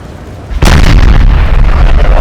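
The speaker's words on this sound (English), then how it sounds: "Turrets firing away. Prussian guns." Prussian artillery guns in a Napoleon Total War battle from 1814 open fire with a sudden loud boom, then a dense rolling rumble of overlapping distant and near cannon shots continues without any voices.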